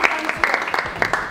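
Conference audience clapping hands in scattered, uneven bursts over about a second, fairly close and moderately loud, with speech mixed in.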